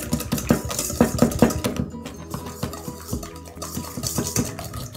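Three eggs being beaten with sugar in a bowl, a quick run of rhythmic clinking, scraping strokes that speed up, pause, then carry on steadily at close range.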